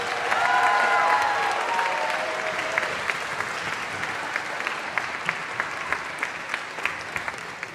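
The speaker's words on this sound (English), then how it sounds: "How about one more round of applause?" An audience at a band camp concert applauds loudly for the concert band students, with dense clapping that gradually thins out into scattered claps.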